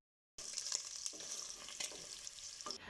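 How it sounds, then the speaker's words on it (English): Bacon sizzles and fries in a pot with a steady, fairly faint crackle that starts abruptly and carries on with small pops throughout, with no voices. "while we're waiting for our bacon to cook back here"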